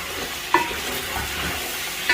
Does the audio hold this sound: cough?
no